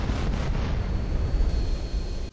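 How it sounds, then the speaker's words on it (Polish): A plane blown up with explosives in GTA San Andreas: a loud, sustained roaring blast fills the whole moment, rumbling and crackling like an eruption before cutting off abruptly. "by na koniec odpalić materiały wybuchowe i wyskoczyć na spadochronie"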